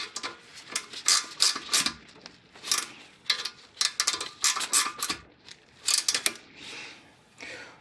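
Ratchet wrench clicking as it tightens 10 mm bolts holding the brake line to the knuckle on a 1999 Acura RL front brake assembly; bursts of close, crisp ratcheting clicks in short repeated runs with brief pauses.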